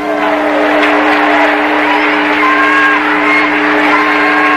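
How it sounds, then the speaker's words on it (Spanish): Church congregation applauding for the Lord during a Spanish-language sermon: a steady, dense wash of clapping sustained throughout, with held keyboard or organ tones underneath. "Vamos a dar un aplauso al Señor."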